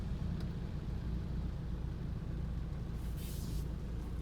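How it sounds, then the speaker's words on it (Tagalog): A dump truck pushes through heavy rain in congested traffic, a constant loud engine rumble and road roar filling the scene, with a brief hiss of air brakes near the end. "Dumaan na sa gitna yung dump truck."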